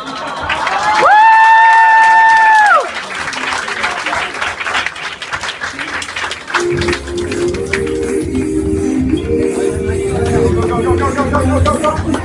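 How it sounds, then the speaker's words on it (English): After a brief sustained tone, an audience at a school play bursts into loud, sustained applause with some cheering, with clapping continuing under music toward the end. "another round of applause"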